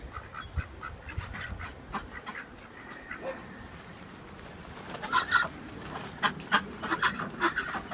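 Three ducks quack in short bursts, growing livelier toward the end, over a low background hum with no talking.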